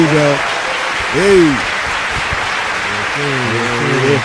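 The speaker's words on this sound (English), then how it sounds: "Somebody give us some applause or something." Scattered applause runs under voices at a faith-community talk on midwifery and traditional birth, a steady noisy wash of clapping with people calling out over it.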